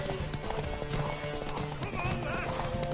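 In a video game, a horse whinnies over steady clip-clopping hooves, with a dense background of action and ambient noise filling the scene.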